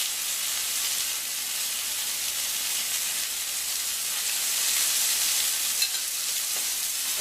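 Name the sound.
kangaroo fillet steak searing in a pan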